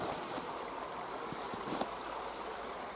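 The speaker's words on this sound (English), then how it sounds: "The creek's flowing pretty good." Creek water flowing in an outdoor setting, a steady faint rushing wash with a few soft splashes and knocks over the continuous flow.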